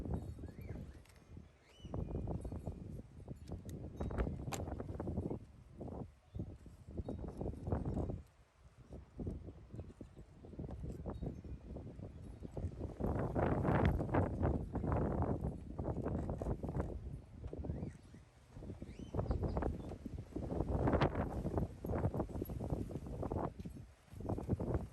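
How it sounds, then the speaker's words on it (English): Strong outdoor wind gusts buffet the microphone in loud, rumbling bursts that come and go across the whole stretch, during spring plant propagation work outside. "The wind is blowing so hard that I'm getting debris in my face"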